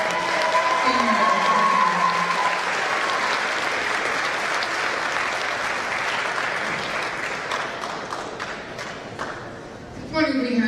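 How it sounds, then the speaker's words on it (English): Applause from a crowd at a high school national signing day ceremony, honoring graduating seniors: loud, sustained, dense clapping that fades gradually before a brief final burst, with some voices mixed in underneath. "Big round of applause for each of our seniors."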